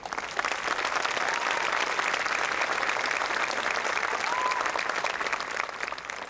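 A large crowd at a Mercer County Community College commencement ceremony breaks into sustained applause, an even, dense roar of clapping lasting the whole stretch and tapering slightly at the end, with no clear voices above it.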